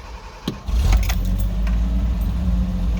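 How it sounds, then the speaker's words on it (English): A homemade car engine cranks briefly and catches, then settles into a steady, low, rumbling run close by, with a light metallic jangle near the start. "I finally got it to where I can actually start it"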